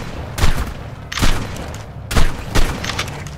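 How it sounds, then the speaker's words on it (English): Four loud shotgun blasts fire in the video game ARK: Survival Evolved, spaced unevenly across a few seconds, each with a sharp boom and a short decay. "we could shoot him with our shotguns"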